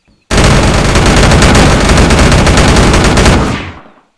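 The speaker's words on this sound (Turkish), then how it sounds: "Şöyle gördüğünüz gibi arkadaşlar minigun. Şöyle de nasıl taradığını göstereyim." A minigun in the video game Unturned fires one loud, continuous burst of rapid gunfire for about three seconds. The burst then cuts off and its tail fades out quickly.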